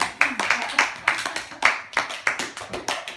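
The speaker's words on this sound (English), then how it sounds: "Oh, we can clap." A small group clapping in a casual setting, steady evenly spaced hand claps about three per second, fairly close and moderately loud, with voices faintly underneath.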